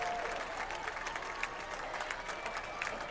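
Crowd applause in the stands at a Friday night high school football game between HSE and Westfield, steady scattered clapping at moderate distance with a faint tonal note and a few brief voices in the background.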